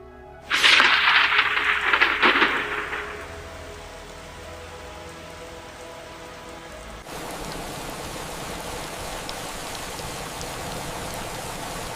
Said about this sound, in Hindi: तभी तेज बारिश शुरू हो जाती है